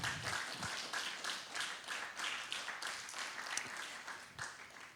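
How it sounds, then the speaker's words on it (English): An audience at a festival keynote event applauds the team behind it, a dense, steady patter of many hands clapping at moderate distance, continuous throughout with no talk over it. "Please, a round of applause for great people who worked really hard."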